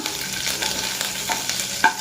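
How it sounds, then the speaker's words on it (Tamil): Green chilies sizzle gently in a hot pan while being sautéed and stirred, with soft scraping and occasional clicks of a utensil against the pan. "மூணு பச்சை மிளகாய் போட்டுடுறோம் இதை கொஞ்சம் வதக்கிட்டு"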